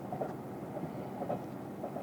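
A winter train to Wakkanai, Japan, rolling along rails, with a steady low rumble and faint rhythmic clicks of wheels over track joints, continuous and fairly close.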